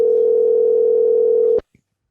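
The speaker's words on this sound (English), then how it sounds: "I mean, it's ringing through." A steady single telephone tone sounds loud and unbroken for about a second and a half on an outgoing call, then cuts off abruptly, followed by a brief faint click.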